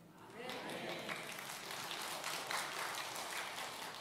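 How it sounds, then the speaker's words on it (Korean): A church congregation claps together during worship, a bright crackling wash of many hands that is fairly loud and sustained, with voices heard alongside. "박수 좀 치지 마세요."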